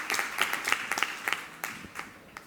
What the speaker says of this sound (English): Well, big applause to Sergio and Alice.